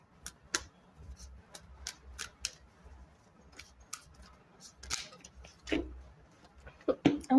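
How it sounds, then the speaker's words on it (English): Tarot cards being shuffled by hand, a series of sharp, crisp snaps and flicks at irregular intervals, close and fairly quiet, ending in a denser burst of card noise. "Three more shuffles."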